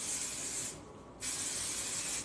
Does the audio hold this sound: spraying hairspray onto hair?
yes